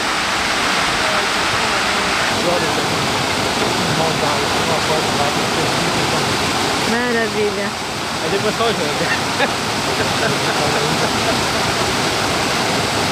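Cachoeira dos Cristais, a waterfall in the Biribiri complex near Diamantina, Minas Gerais, Brazil, roars as a loud, continuous wash of falling water close by, with a person speaking briefly over it.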